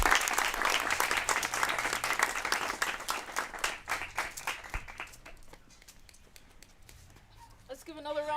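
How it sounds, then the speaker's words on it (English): An audience at a showcase event in Botswana claps loudly, a dense burst of applause that thins into scattered claps and fades, with a voice starting at the very end. "Let's give another round of applause for Mentini."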